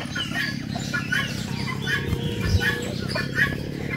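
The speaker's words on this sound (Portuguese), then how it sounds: "Tem uns frangos ali no terreiro." Chickens cluck intermittently in a rural farmyard, soft and moderately distant, with scattered short calls over a low background rumble and faint talking.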